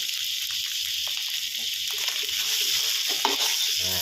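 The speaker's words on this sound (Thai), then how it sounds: "นี่ครับค่อยๆผัดไปนะครับ บี้เม็ดข้าวที่เป็นก้อนเล็กๆนะครับ" Rice stir-fried with canned tuna and dark soy sauce in a wok, a steady close sizzle under scraping spatula strokes that press apart small lumps of rice, with no talking.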